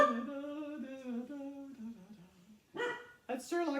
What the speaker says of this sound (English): That's Sherlock barking at the neighbors.